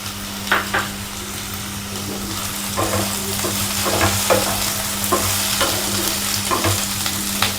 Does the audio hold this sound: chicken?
no